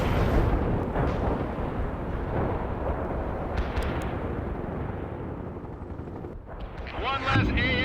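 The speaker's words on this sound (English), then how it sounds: "Laying down suppressing fire." Dense, continuous battlefield gunfire and rumbling artillery-like blasts from the World in Conflict real-time strategy game, loud and sustained throughout, with radio-style unit voices speaking over the din.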